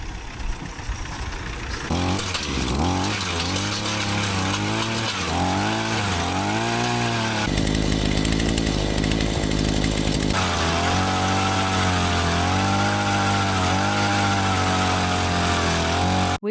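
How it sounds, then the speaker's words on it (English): A power drill auger struggles to bore post holes through very hard clay, its motor running loud and steady throughout with pitch that rises and sags under load, close by with no talk. "We just started the first hole and very quickly realised that the ground underneath is very hard clay that even the drill is struggling to go through."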